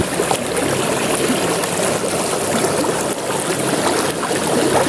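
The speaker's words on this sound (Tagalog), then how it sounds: "Ang sarap namang pakinggan yung lagaslas ng tubig" River water flowing at a spot used for bathing and washing, a steady, full rushing and babbling wash that holds constant and close throughout, with no voices.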